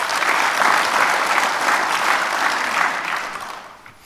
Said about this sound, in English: So let's give those top 3 a round of applause.